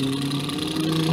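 A person imitates a car engine with lips and throat, a steady buzzing hum that swells slightly toward the end like an engine revving.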